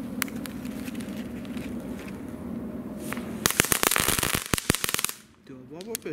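Category 1 consumer fireworks from a 2018 set test crackle and burst in a rapid, dense flurry of sharp pops lasting a couple of seconds, then fade, with people talking before and after.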